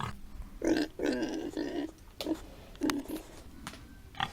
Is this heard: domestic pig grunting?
yes